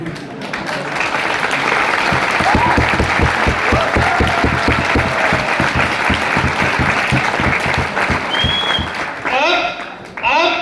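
A large seminar audience claps steadily for about ten seconds, with dense, even hand claps. A voice speaks faintly over the applause near the end.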